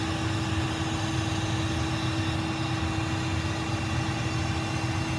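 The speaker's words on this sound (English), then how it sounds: "Go ahead and spin it all the way around till it's perpendicular to the tongue here from the tractor." A tractor runs steadily while its hydraulics fold a towed implement, giving a continuous engine drone with a strained hydraulic whine held at one pitch, close and even throughout, with no talking.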